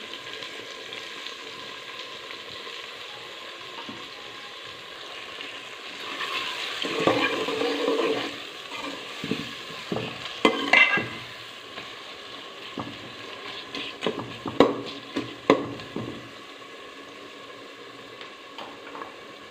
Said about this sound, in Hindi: अब टमाटर मिर्ची डालूँगी